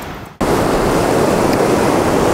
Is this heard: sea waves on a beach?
yes